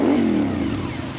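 A Suzuki TL1000 V-twin motorcycle engine gives a single loud, close rev, its deep throb rising and then easing off within about a second.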